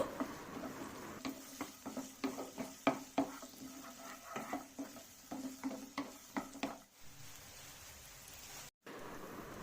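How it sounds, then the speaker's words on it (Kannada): Ginger and garlic fry in a pan for a prawn curry, giving a steady sizzle broken by repeated scraping stir strokes and clinks of a spoon against the pan, up close with no talking. "ಶುಂಠಿ ಬೆಳ್ಳುಳ್ಳಿ ಸೇರಿಸ್ಕೊಳ್ಳೋಣ. ಅದನ್ನು ಸಹ ಚೆನ್ನಾಗಿ ಫ್ರೈ ಮಾಡೋಣ."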